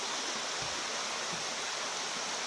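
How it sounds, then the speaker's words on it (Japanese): The Kamuiwakka hot spring waterfall, where the whole stream flows as hot spring water, gives off a steady, even rushing of water with no voices. "カムイワッカ湯の滝"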